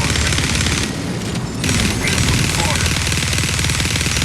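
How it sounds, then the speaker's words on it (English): Dual minigun in a video game firing a sustained, dense stream of rapid shots, loud and continuous throughout with a brief dip in the middle. "then I just fire the gun"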